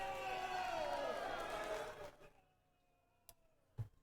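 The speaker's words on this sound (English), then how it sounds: "So now you hear a lot of cheering." Cheering rises from a crowd at a fencing team event, a dense rolling roar for about two seconds that cuts off abruptly, leaving near-silence broken by a couple of sharp clicks.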